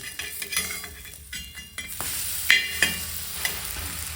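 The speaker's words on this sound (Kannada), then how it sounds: "ಈ ಥರ ತಿರುಗಿ ಹಾಕಿ ಬಟ್ರ್ ಬಿಟ್ಕೋಬೇಕು ಅಂತ." Bread toast sizzles in butter in a pan, a steady frying hiss broken by sharp clinks and scrapes of a utensil turning and pressing the slices, close and with no talk.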